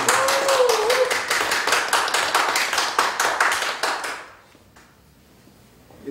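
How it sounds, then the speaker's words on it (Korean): Applause after a hymn at a church charity concert. Loud, rhythmic hand clapping in a steady beat runs for about four seconds, with a brief voice early on, then fades quickly to near silence. "큰 박수 부탁드립니다"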